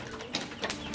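Pigeons cooing on a shed roof in a village, a couple of brief soft calls over a steady faint background hiss.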